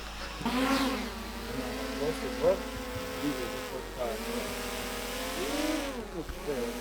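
A small toy-sized drone's propellers spin and its motors hum in a steady, buzzing whine that rises and falls with throttle changes, close by, while children and adults talk over it at a patriotic youth camp.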